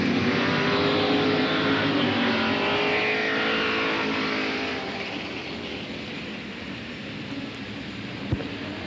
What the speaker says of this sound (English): We're giving the cars a few laps to warm up the tires and get these cars in race-ready condition